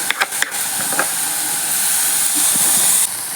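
Shallots sizzling in hot oil for chicken curry, a loud steady hiss that fills the whole stretch with a few sharp crackles near the start.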